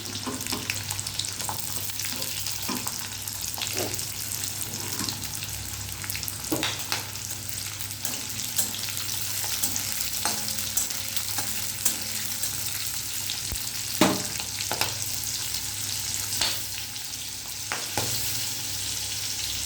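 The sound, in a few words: frying chopped onions with okra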